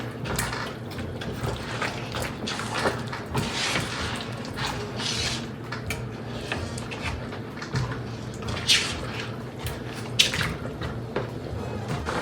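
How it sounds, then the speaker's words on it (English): Ogbono soup is stirred in a pot, giving soft wet sloshing and scraping with occasional louder clinks and gloopy drips over a constant background hum, close and fairly quiet. "So I gradually stir."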